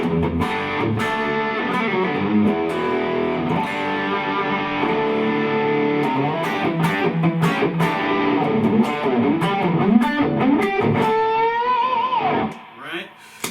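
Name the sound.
electric guitar with heavy distortion overdrive effect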